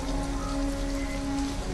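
Steady rain falls in the game Detroit: Become Human, a dense, even hiss of drops hitting surfaces that holds at the same level throughout, with a faint low hum beneath it and no talking.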